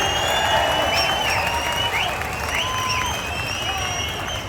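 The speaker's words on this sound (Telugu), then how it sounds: "గట్టిగా చప్పట్లు కొట్టి స్వాగతం పలకండి" A large rally crowd applauding to welcome Prime Minister Narendra Modi, with steady, dense clapping that holds throughout, a voice over a loudspeaker calling out above it, and a faint high whistle-like tone.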